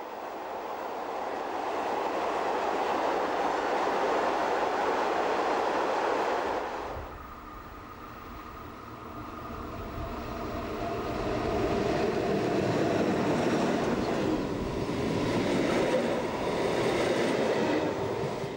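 A German class 140 electric locomotive hauls a train past on the Main line between Würzburg and Gemünden, a loud rolling rumble that briefly eases, then builds again with rhythmic wheel clatter and faint squeal.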